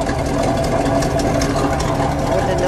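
A 1967 Oldsmobile Toronado with a front-wheel-drive 425 cubic-inch V8 and side-to-side exhaust idles with a steady, loud, close rumble.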